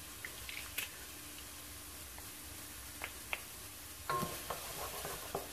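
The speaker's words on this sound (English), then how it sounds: "Stir that around for about a minute." Garlic is stirred in a soup pot, giving quiet, close scraping and faint sizzling with a few small clicks and taps, a little busier toward the end, and no talking.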